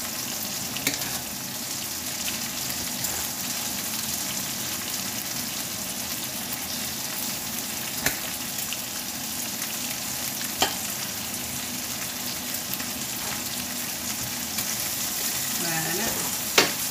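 Tomatoes and peppers for paella fry in a pan with a steady, even sizzle throughout, broken by occasional faint stirring clicks.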